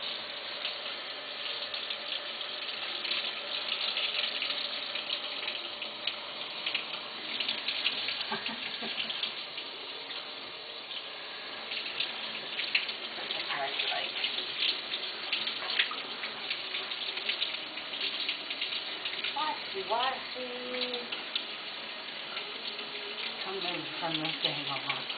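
A green guenon monkey being bathed, with steady water splashing and running like a tap throughout, close and continuous while a person speaks softly at times.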